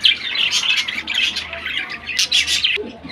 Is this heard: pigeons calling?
yes